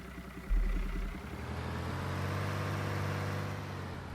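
A tractor engine idles in Farming Simulator 19 career-mode play, a steady low mechanical drone that rises in level after a thump near the start and holds evenly throughout.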